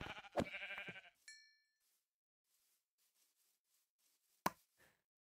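Sheep bleating in the video game Minecraft, a short run of loud bleats right at the start, followed by a couple of soft pops and a sharp hit, then near silence.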